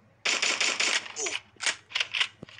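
Rapid sniper gunfire in the mobile battle royale game Free Fire, a burst of sharp cracks followed by several more spaced shots, loud and close with game effects in between.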